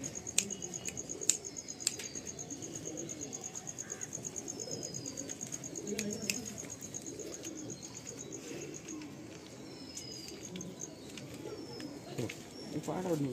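Andhra pigeons in a loft give low, murmuring coos through a faint, continuous bed of crickets and insect chirps, with occasional soft rustles and light knocks throughout.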